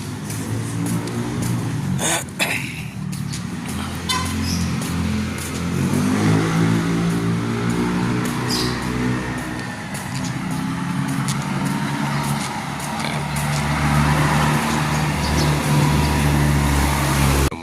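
Cars and vehicle engines drone along a road, with a few louder passing swells and steady traffic noise throughout, no talk.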